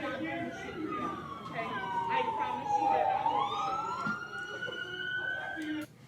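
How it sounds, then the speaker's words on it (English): Police sirens wail and rise and fall, overlapping at a distance, with traffic rumble and a voice speaking underneath. "You hear all the sirens?"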